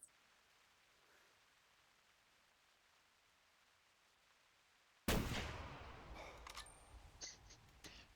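A single loud rifle shot fired at a blacktail deer in theHunter Classic breaks a near-silent stretch, followed by a fading echo and a few faint clicks.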